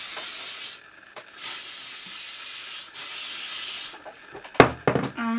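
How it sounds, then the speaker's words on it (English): Hairspray from an aerosol can is sprayed onto short, fine hair being styled into a faux hawk: several long, loud, close hissing bursts separated by brief pauses, then some soft handling noises. "Now I'm going to give it a quick spray."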